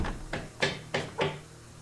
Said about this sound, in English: Place the second door.